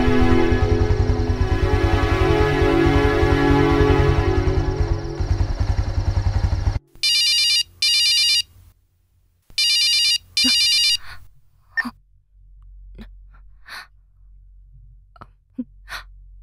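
In a Tamil TV serial scene, a telephone ringback tone sounds while a call is placed, two double-pulse rings playing loud and alone right after loud music stops, followed by faint clicks and breaths.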